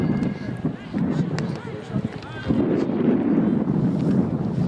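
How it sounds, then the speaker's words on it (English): Wind gusting across the microphone at an outdoor varsity baseball game: a steady, loud rumbling buffet that swells partway through, with a commentator talking over it. "And the wind is picking up again"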